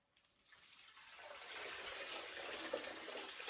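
Water drains from a tub of freshly washed, dirty wool, a quiet rushing trickle that swells after a soft start and keeps flowing steadily.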